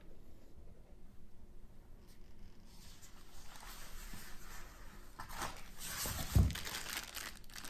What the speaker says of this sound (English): We'll take it out here in a bit, unwrap it, and let you see what we got.